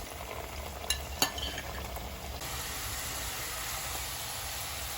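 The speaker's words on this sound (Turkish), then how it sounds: "Küp küp doğradığımız patateslerimizi kızgın yağımıza atıyoruz." Steady hiss of diced potatoes frying in hot oil, with a couple of sharp clinks early on and a constant sizzling wash throughout.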